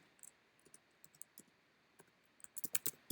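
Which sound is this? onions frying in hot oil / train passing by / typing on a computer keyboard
typing on a computer keyboard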